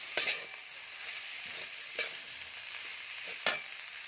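Hyacinth bean pods (ghevda) stir-fried in a pan, with a steady low sizzle and three sharp scraping stirs spaced out across the stretch, close and fairly loud, no voices.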